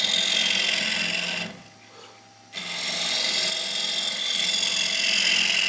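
A 16mm gouge cuts a spinning piece of wood on a lathe, a steady hissing, scraping shave that breaks off for about a second of quieter motor hum before the cut resumes at full strength.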